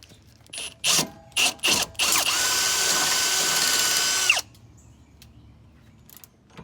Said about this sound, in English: use a series of drill bits to make the 7/16 hole needed to secure the axle side Panhard bar bracket to the axle bracket